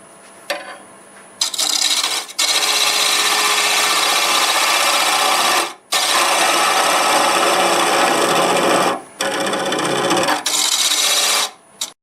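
A scraper works the inside of a natural-edge maple burl bowl spinning on a wood lathe, giving loud sustained rasping passes of several seconds each, separated by short breaks.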